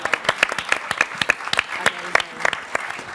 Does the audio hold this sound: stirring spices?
no